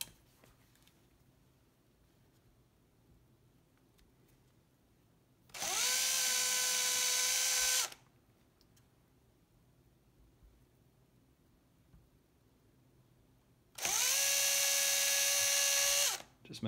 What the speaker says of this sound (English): we mark our drill bit at 2/3 depth of the screw